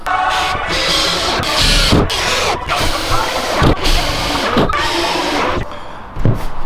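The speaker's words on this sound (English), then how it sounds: "Screw this down, then it's dinner time." A screw driven down into wood inside a Luton box van being converted into a home, heard as repeated close whirring bursts of a power driver separated by short pauses and knocks.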